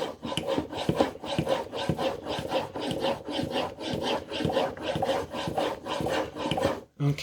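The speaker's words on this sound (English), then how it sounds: "you want to just keep going across the stone and working the whole thing to avoid gouging it" A blade is stroked back and forth across an oiled sharpening stone in a woodworking shop, giving a steady series of about a dozen close, rasping rubs in an even rhythm, heard alone.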